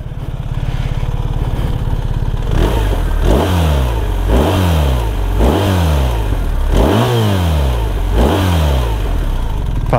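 A BMW R1300 GS motorcycle with an aftermarket Akrapovič exhaust idles, then is revved in five or six sharp, rising blips close by, each falling back to a rumbling idle.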